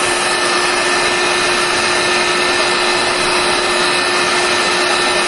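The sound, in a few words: heat tool heating armour boot material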